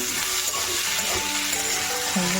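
Potatoes frying in a pan, a steady soft sizzle running close and continuous throughout, with faint kitchen clinks and no talking.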